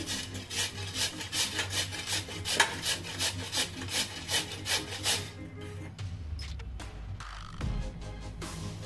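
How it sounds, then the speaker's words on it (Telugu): A potato is grated by hand into water in a home kitchen, making a steady, close rasping stroke roughly three times a second for about five seconds, then a few slower scrapes and handling noises. "వాటర్లో గ్రేట్ చేయాలండి ఆలు."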